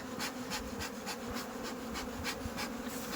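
Honey bees buzz steadily around an open hive during a rooftop inspection, a close, dense drone with rhythmic pulsing bursts throughout, no talking.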